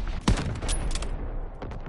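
An artillery strike lands in a multiplayer shooter game, with a sharp close blast followed by a rapid burst of gunfire and rumbling explosions that fade out.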